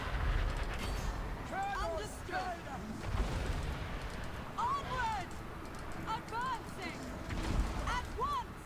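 Archers firing volleys in a Total War: Warhammer battle with Dryads, heard as repeated thuds and rumbling impacts over a constant battle din, with voices mixed in.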